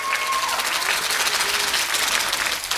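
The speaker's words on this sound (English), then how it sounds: "Please clap for Bailey." An audience at a conference opening session applauds a young speaker, a dense wash of clapping filling the room, with a brief faint tone near the start.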